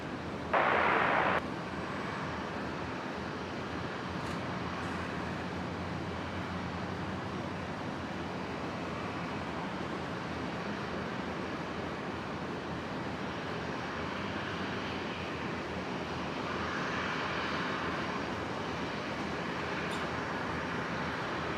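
A Qantas airliner takes off from runway 01 right at Brisbane Airport, its engine roar a steady, distant broadband rumble that swells slightly toward the end.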